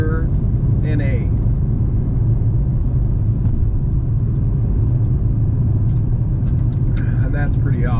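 A BMW E60 M5 with its naturally aspirated engine drives along, a steady deep engine and road rumble filling the cabin, with brief voices of occupants at the start and end.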